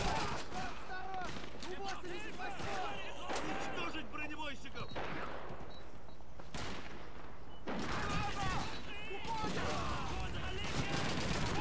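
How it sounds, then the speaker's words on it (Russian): Grenade and gunfire blasts in a Call of Duty 2 battle set in Africa, a run of sharp booming explosions in bursts with gaps between them, mixed with voices talking over the action. "О, гранаты полчаса взрываются."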